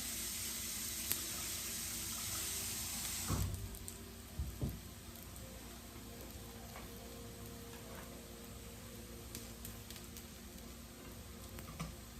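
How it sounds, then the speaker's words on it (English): Water poured into a cooking pot hisses and splashes briefly while preparing Jamaican ackee and saltfish, followed by a low, steady simmering hiss and a few soft clinks. "Put some water in here."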